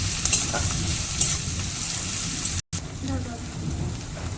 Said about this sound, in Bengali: পেঁয়াজগুলো একটু হালকা করে ভেজে নেব। একটু ভাজা গেছে, এর মধ্যে আমি দিয়ে দিলাম কুচনো টমেটো।